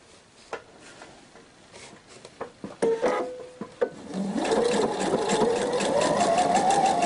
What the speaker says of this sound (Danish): så vender jeg rundt og syr i den samme stikning